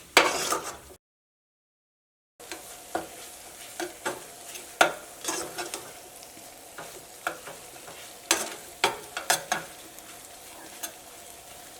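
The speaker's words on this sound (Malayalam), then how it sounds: "ഇതെല്ലാം കൂടിയിട്ട് നന്നായിട്ടൊന്ന് മിക്സ് ചെയ്യാം." Egg masala being mixed and fried in a pan, with repeated sharp stirring scrapes and clicks over a low, steady sizzle, broken by a brief silent gap.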